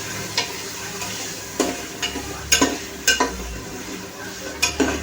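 Mixed vegetables for matar pulao fry in a pan with soft tomatoes, a steady sizzle broken by several sharp scrapes and clinks of a spoon stirring against the metal, close and without voices.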